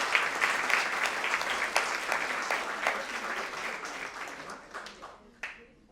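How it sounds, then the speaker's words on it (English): Audience applause at a tabla debut recital fills the hall, dense at first with a few crisp individual claps, then gradually thinning and fading out over about six seconds. "So round of applause for all of you first."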